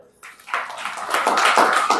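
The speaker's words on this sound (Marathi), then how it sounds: "त्या आईसाठी टाळ्या वाजवा जरा एकदा." An audience at a Marathi Buddhist dharma talk breaks into applause for a mother, starting with a few scattered claps that quickly swell into steady, moderately loud clapping.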